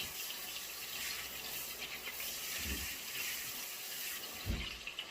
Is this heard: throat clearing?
no